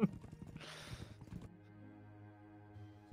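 Hoofbeats clop rapidly from a horse riding toward the player in Might and Magic Heroes VI, a short burst of close, rhythmic clip-clop lasting about a second and a half before a sustained musical tone takes over.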